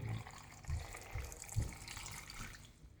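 Water poured from a cup into a pot of roughly chopped tomatoes and onion for homemade tomato ketchup, a soft, steady, close-up trickle with a few low bumps, no talking.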